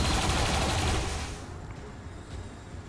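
Gunfire in the XCOM 2 video game: a loud, dense burst of shots in the first second and a half, then fading into a quieter rumbling tail.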